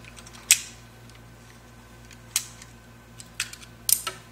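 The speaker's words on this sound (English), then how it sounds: "You're going to want to make a clean cut on that using a pair of tubing cutters." Tubing cutters snip 3/8 nylon high-pressure tubing with a few sharp, crisp clicks, one near 0.5 s, another around 2.4 s and a small cluster toward the end, over a quiet low hum.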